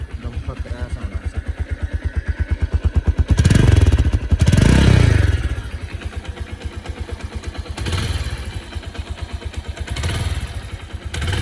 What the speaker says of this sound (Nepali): यसको इन्जिनको अब साउन्ड सुनौँ।